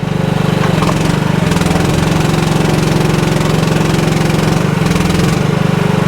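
A mini excavator's engine runs loud and close with a steady throbbing drone while the thumb attachment clamps, the pitch rising and falling slightly with the hydraulic load.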